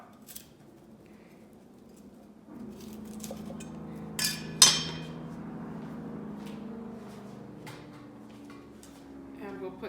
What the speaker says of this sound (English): I'm gonna cut this into pieces that can be steamed easily